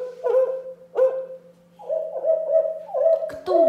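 A series of hollow, tonal owl hoots played from a computer, repeating at an irregular pace, fairly close and clear over a faint steady hum.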